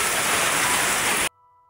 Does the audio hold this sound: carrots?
no